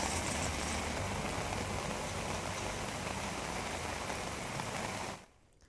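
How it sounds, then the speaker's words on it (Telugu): Heavy overnight rain pours down in Tirupati, Chittoor district, during a thunderstorm, a dense, steady roar of downpour that holds evenly before cutting off abruptly near the end. "తిరుపతి, చిత్తూరు జిల్లాలో అర్ధరాత్రి నుంచి ఉరుములు మెరుపులతో భారీ వర్షం కురుస్తోంది"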